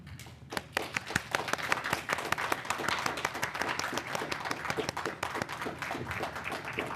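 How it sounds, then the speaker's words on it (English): An audience stands and applauds itself at a presentation, with moderately loud, dense clapping with distinct individual claps throughout, steady for about seven seconds. "stand up and give yourselves a round of applause"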